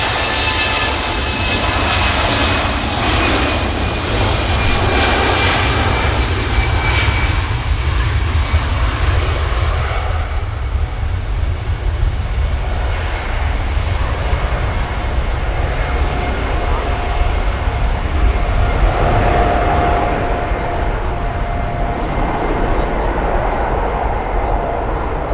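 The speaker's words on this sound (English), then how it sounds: "Here goes the EasyJet. This is the flight to Paris." An EasyJet jet airliner takes off from Manchester Airport bound for Paris, its engines giving a loud, sustained roar that slowly fades over about twenty-five seconds while a voice talks over it.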